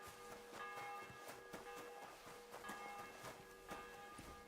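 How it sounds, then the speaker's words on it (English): A church bell in Kingdom Come: Deliverance 2 rings out in repeated metallic strikes with lingering tonal overtones, fairly faint and at a distance, each stroke decaying into the next at a steady pace. "The bell's ringing for Hans the 5th time."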